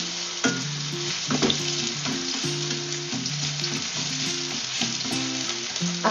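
Garlic and onion frying in oil in a pan for an okra omelette: a continuous bright sizzle with occasional stirring clatter, close and steady, with background music and no talking.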